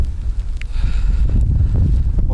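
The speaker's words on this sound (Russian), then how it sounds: "Вот такие бури бывают на водохранилище." Strong wind gusting over the Rybinsk reservoir during a fishing trip, a steady loud low roar buffeting the microphone with no voices.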